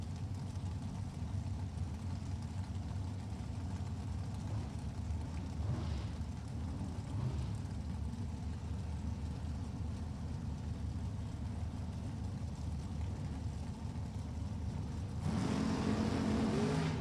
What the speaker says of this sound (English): David Long's machine, the S&W race car.